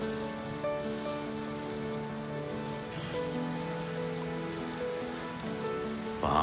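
Rain falls in a steady patter as a sound effect in a children's story, softly layered under sustained musical tones.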